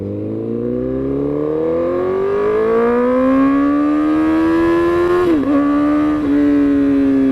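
A 2008 Honda CBR1000RR sport motorcycle engine revs steadily higher toward 8,000 rpm, its pitch climbing into a loud, close whine, then dips briefly between gear shifts before holding high.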